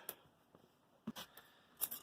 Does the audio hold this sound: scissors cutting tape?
yes